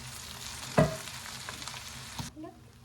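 A spoon mixes a spiced dish with ghee, sugar and garam masala in a sizzling pan. One sharp clank lands early and soft stirring scrapes follow under steady frying hiss, which stops abruptly near the end.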